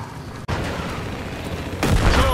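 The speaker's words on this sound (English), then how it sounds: "Charge has been detonated." Explosive charge detonating in Battlefield Hardline, a loud sustained blast and rumble rising near the end after steady gunfire and combat noise.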